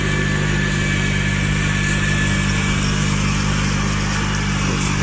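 The small engine of a rice transplanter working a paddy field runs at a steady, loud, high-pitched drone throughout, close by and with no voices.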